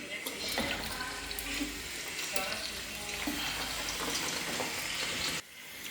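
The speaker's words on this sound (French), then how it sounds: "je vais d'abord mettre un peu des oignons dans l'huile." Onions fry in hot oil in a pot while Cameroonian ndole is cooked, giving a steady, close, dense sizzle with faint stirring that cuts off abruptly near the end.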